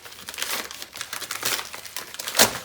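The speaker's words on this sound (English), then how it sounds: "we'll just have to use my raw strength to get this package open" A mail package is torn open by hand without scissors, with repeated close crinkling and ripping of packaging material and a sharp, loud tear near the end.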